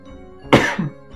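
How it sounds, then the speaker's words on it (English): A person who has had a lingering cough gives a single sharp, close cough with a brief throaty tail during Ultima VII gameplay commentary. "Excuse me, I've had a cough lately."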